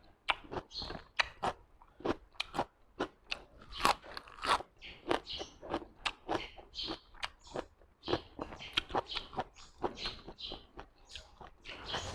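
Blanched squid tentacles dipped in a sour, sweet and spicy seafood sauce being bitten and chewed close up, with a steady run of wet, crunchy bites and chews and no talking.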